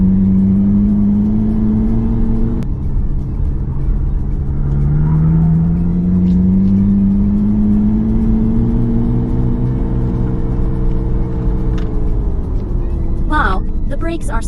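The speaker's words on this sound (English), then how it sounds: "This simulated sound wave is still quite real." MG Cyberster 2024 electric roadster's simulated driving sound, a steady synthetic engine-like hum that rises and falls in pitch as the car drives, with someone talking over it throughout.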